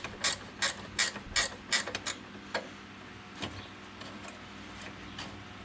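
A ratchet wrench undoes a 13 mm bolt on a Ford FG Falcon, clicking in quick bursts of several sharp ratchet strokes, then slowing to sparse, fainter clicks, close by and without talk.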